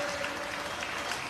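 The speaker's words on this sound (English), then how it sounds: "let us all give a big round of applause for all of them who have come here to celebrate with us" A small crowd gathered for an 80th birthday celebration claps steadily in a dense, even patter, soft and slightly distant, lasting only a moment.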